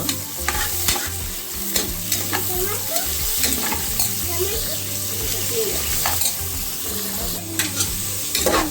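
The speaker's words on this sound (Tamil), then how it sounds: "வெங்காயம் வதங்கிட்டு இருக்கு" Onions sautéing for mutton biryani, sizzling loudly and steadily in a pan while a utensil stirs and scrapes them close up, with faint voices in the background.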